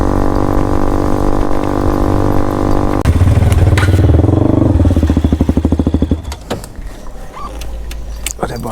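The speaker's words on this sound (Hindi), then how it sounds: "ये बाइक चला रहा हूँ, मेरे को इतनी छोटी बाइक लग रही है" A small motorcycle engine hums steadily, then shifts into a rougher, pulsing throb as it is ridden before easing off into clattery rattles and scattered knocks, close and loud.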